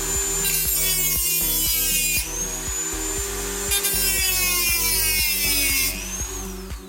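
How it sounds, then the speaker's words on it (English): A Dremel rotary tool cuts into a thin tin cookie tin, a loud, high whining buzz with rising pitch sweeps and repeated short bursts and pauses as the blade bites the metal. "we're gonna do some very quick cuts with the Dremel."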